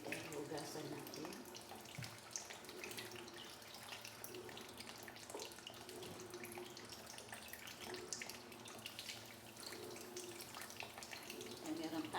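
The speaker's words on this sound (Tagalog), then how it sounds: "Kaya hugasan natin." Fish, including milkfish, rinsed under a steady stream of running tap water, a continuous close splashing and trickling with faint handling sounds and brief speech in the background.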